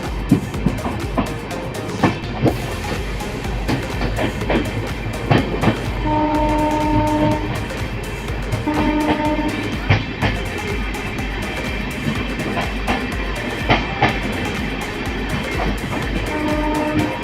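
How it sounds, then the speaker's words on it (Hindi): An Amrit Bharat Express train pulls out of Janakpur Road railway station with steady rumbling and clickety-clack, and repeated horn blasts sound over the crowded platform. "फाइनली अपनी जनकपुर रोड रेलवे स्टेशन से अपनी ट्रेन निकल चुकी है।"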